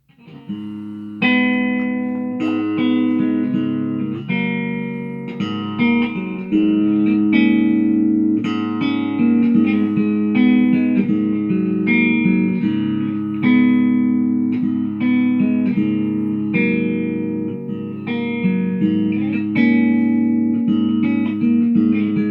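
An ESP LTD H-101FM electric guitar with split pickups and a thin, bright tone plays a sustained melodic passage, loud and alone, notes ringing into one another.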